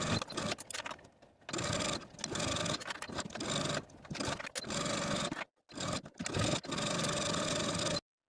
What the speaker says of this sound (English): We're going to sew from one end all the way across to the other end, edge stitching close to this inner fold all the way across